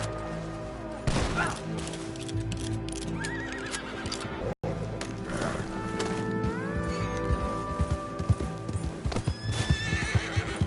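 Horses in Red Dead Redemption 2 gallop in with loud, rapid clip-clop hoofbeats and repeated neighs and whinnies, along with scattered gunshots and a brief dropout partway through.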